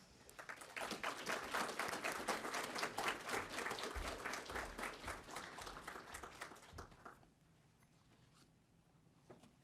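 An audience at a graduation ceremony applauds to welcome a speaker. The clapping is dense and sustained for about seven seconds, then quickly tapers off to quiet room tone.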